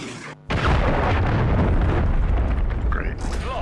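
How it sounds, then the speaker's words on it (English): A cruise missile detonates in a Call of Duty match as a sudden loud boom, followed by a sustained roaring rumble of blast and debris lasting several seconds, with game noise on top. "Friendly cruise missile deployed."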